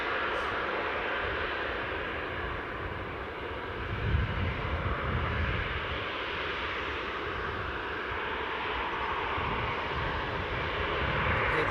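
Ryanair airliner engines at Newcastle airport, a continuous loud whooshing roar with a low rumble that swells briefly, sustained and fairly near, with no talking.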